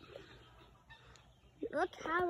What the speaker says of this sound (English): this chicken's got a strawberry.